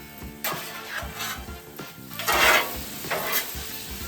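Onions stir-fried in a pan with a little oil, giving a steady sizzle broken by several louder scraping stir strokes, close and clear with no talking.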